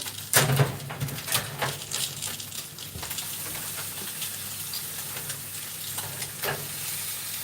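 Grass-fed steak frying in a pan, a steady close sizzle and crackle with sharp spitting pops near the start, running on alone without talk.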